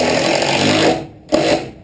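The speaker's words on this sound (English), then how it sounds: "we're going to drive in just 2 more screws" A power drill drives screws into window framing at an off-grid cabin build, whirring steadily for about a second, cutting out briefly, then spinning up again in a shorter second burst, close and loud.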